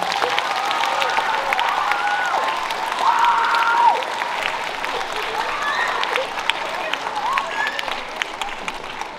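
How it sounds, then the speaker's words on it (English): A large winter concert audience applauding loudly and continuously, dense clapping that swells slightly early on, with faint cheers mixed in. "let's give them all a big round of applause"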